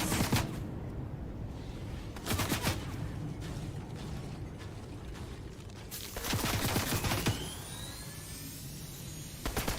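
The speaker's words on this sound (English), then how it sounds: "Someone's shooting at me now." Gunfire in Fortnite: two loud fusillades of rapid shots, one short burst early and a longer volley later, with background game noise continuing between them and no voices.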